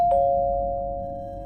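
A doorbell rings once, a clear sustained chime that decays slowly over a quiet room background.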